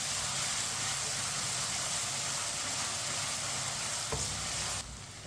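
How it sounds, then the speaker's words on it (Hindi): Onions fry in a pan over medium heat, a loud continuous close sizzle with a faint knock of the stirring spoon, easing off slightly at the very end. "प्याज को जलने नहीं देना, चम्मच चलाते हुए भूने"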